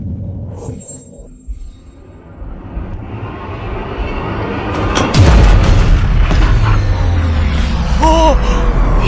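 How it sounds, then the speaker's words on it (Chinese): Tank cannon fire and explosions in a period fantasy drama, deep booming blasts and heavy rumble building into a loud sustained roar, with a brief voice early on. "传令下去，坦克开火，给我轰了他！"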